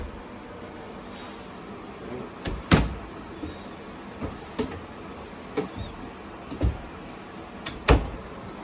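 Small drawers in a 2021 Wildwood 22RBS travel trailer open and close, giving a series of short, sharp knocks and slides spaced a second or so apart, fairly close and alone.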